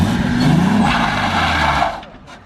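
A car engine roaring loud and close during a burnout, holding high revs for nearly two seconds before dropping away sharply as it cuts out, with voices faintly underneath.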